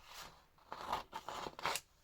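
Scissors snip through paper being trimmed for handmade faux tickets, several quiet close crunchy cuts in quick succession with no talking.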